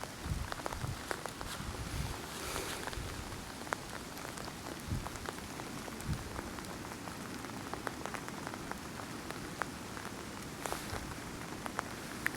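Steady rain patters on surfaces around a backyard, a dense, even hiss of drops with occasional louder close splats, continuous and fairly soft throughout.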